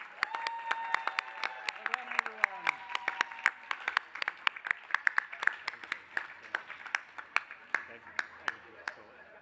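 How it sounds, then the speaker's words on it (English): At a house graduation ceremony, a scattered crowd claps for the graduates. Sharp, uneven claps ring out, with some brief tonal sounds early on and faint voices underneath. "One more incredible round of applause for the incredible graduates of the class of"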